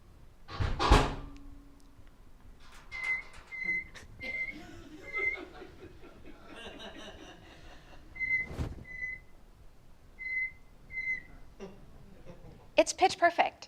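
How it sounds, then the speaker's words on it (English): A microwave door clunks open and shut, then a pet starling answers with clear, high electronic-style beeps: a quick run of four, a pause, then four more, copied pitch-perfect from the microwave's own tone, with soft household rustling between. "You're going to hear me open and close the microwave door, and that is going to be Carmen's cue to beep."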